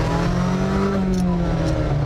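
A 2020 Volvo P1800 Cyan, a 1960s-style car without power brake booster, traction control or ABS, driving with a steady, loud engine drone and a rising tone up close, no talk over it.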